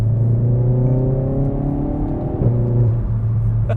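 A Renault Megane RS 300 pulls hard on the road, its engine note climbing steadily through a gear, a quick shift near the middle, then rising again, loud and close from inside the cabin.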